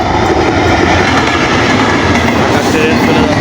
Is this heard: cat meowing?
no